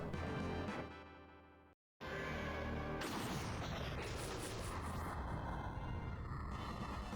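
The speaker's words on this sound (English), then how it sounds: "Why is this one exploding?" Explosion in the Shining Force III video game: a loud roaring blast that cuts to a brief silence, then a second heavy burst with crackling debris that rumbles on steadily to the end.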